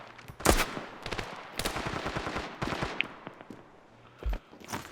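Gunfire in the mobile shooter game Standoff 2, with several sharp shots and short bursts spread unevenly across a busy stretch of play, loud and close.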